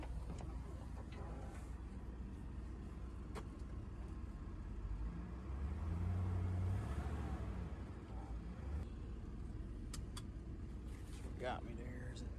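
A bulldozer engine revving while stuck in a borrow pit being dug into a pond, a steady low diesel drone that swells louder midway, with occasional clanks and someone speaking over it.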